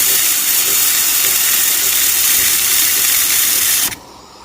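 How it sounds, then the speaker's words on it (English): An espresso machine's steam wand purges in a loud, steady hiss of escaping steam, rushing evenly for about four seconds before it cuts off abruptly and leaves near silence. "Remember to clean your steam wand and then purge before the milk solidify inside."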